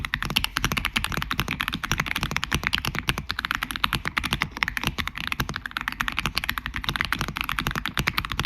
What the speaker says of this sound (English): Let me put the mic down by the keyboard real quick.